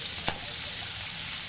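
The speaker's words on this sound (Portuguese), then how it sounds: "E vamos cozinhar bem, fritar bem esses ingredientes." Onion, garlic and other ingredients fry in a pan for a bean stew, giving a soft continuous sizzle with one brief sharp scrape of stirring near the start. No one speaks.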